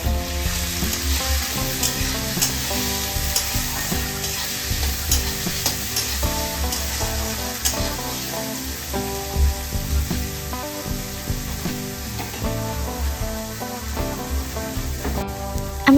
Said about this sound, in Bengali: সবার ফার্স্টে আমি আলু আর গাজরটাকে ভেজে নেব।